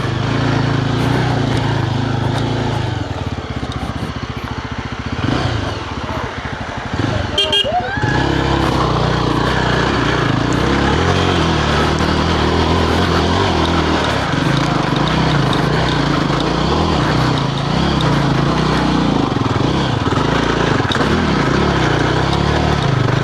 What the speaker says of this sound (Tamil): ஜீப் இறங்கி வருது, பார்த்து வாங்கினாரு.